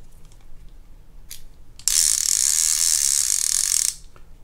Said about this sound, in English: So now I'm going to test the clicker.